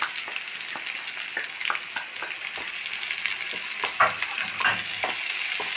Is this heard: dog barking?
no